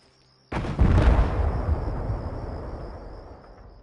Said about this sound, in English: I'm running much quicker towards it, which results in the IED detonating much closer to the soldier